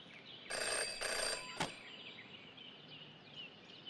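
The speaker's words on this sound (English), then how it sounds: "Jenny had learned never to ignore a ringing phone" A telephone rings in the Jenny LeClue detective video game, two short bright bursts of bell-like tone followed by a click, with quieter chirping game ambience continuing afterward.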